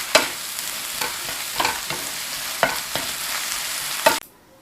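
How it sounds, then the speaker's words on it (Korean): Wood ear mushrooms are stir-fried in a pan, with a steady sizzle broken by repeated scraping stirs and a final sharp clatter before sudden quiet. "목기버섯 넣고 살짝만 볶아주시면 돼요"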